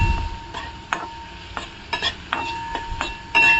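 Onion frying in a pan until golden brown for cabbage sabzi, a low steady sizzle broken by repeated scraping and clinking stirs of a spoon against the pan, close and with no voices.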